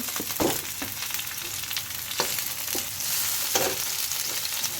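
Spices and tomato sautéing in a pan for a liver samosa filling, a quiet steady sizzle broken by several spatula scrapes and taps, close by, with no one talking.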